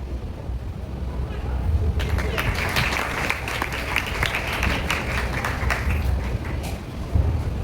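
A crowd at an Onam celebration bursts into lively applause for prize winners, the dense clapping starting after a couple of seconds of room noise and continuing strongly to the end.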